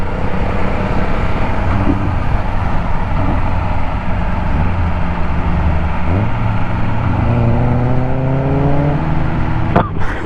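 A car accelerates and passes by on a road during a motorcycle ride, its engine rising in pitch over steady wind and engine rumble, loud and close throughout.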